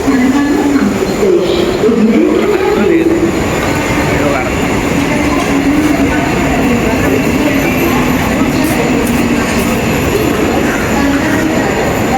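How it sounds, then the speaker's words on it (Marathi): Loud, close rumble of a train rolling along the tracks, with a high wheel squeal running through it and voices faintly underneath. "ट्रेन येणार थोड्याच वेळात"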